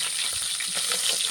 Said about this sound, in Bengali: এই মাছগুলো সুন্দর ভাজা হয়ে গেছে